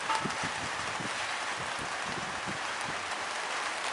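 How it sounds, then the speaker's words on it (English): Rain falls on a cricket ground during a B Grade club match, making a steady, even hiss that fills the scene with no voices over it. "The rain has not gotten any worse than it had over the last 10 minutes"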